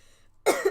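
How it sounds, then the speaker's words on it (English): A single harsh, close cough from a person sounding a bit rough with illness, bursting suddenly out of near silence and ending with a second short rasping push. "I apologize if I kind of cough and sound a bit rough through the duration of the stream."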